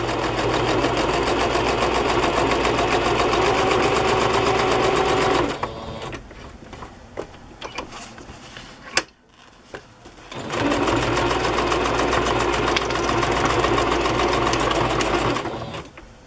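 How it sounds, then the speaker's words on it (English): Sewing machine running a straight stitch to attach a tag onto a handmade music-themed journal, a steady close whirring hum for about five seconds, pausing briefly with soft handling noises, then whirring steadily again for several more seconds. "I'm just going to use a straight stitch to sew this on."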